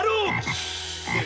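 A frog croaks in a few distinct, loud, close calls with a rhythmic, rasping quality, heard alone without speech.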